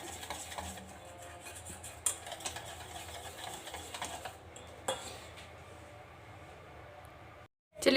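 A whisk or spoon beating pancake batter in a bowl, steady faint scraping and clinking with a few sharper taps against the rim, then a short silence at the end.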